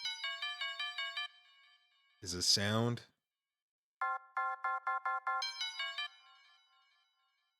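A bell sample loaded in the FL Studio channel rack rings as a clear melodic pattern of repeated bright tones, then plays again after a short burst of speech.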